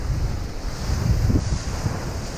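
Strong wind buffets the microphone over a constant rush of waves and open Atlantic water aboard a small racing sailboat, loud and unbroken throughout.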